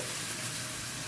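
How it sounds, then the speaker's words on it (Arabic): Green beans sautéing in a pan with browned garlic and onion, a steady close sizzle and hiss of frying that runs the whole short moment without pause. "تاخد تشويحه مع الثوم والبصله"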